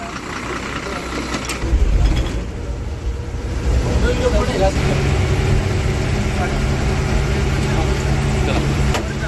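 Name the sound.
luxury travel bus engine running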